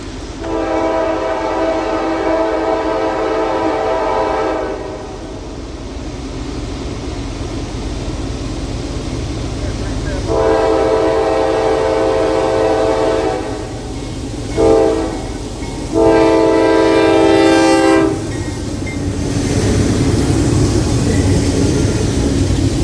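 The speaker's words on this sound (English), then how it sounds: "Priority Intermodal NS29S makes its way towards Norris Junction and Irondale Junction" A Norfolk Southern priority intermodal freight train rolls past near a rail yard, its horn blaring in loud, sustained blasts over a steady rumble of wheels and cars, with several long honks and short gaps between them.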